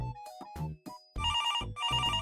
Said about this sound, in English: Come on, honey, pick up the phone.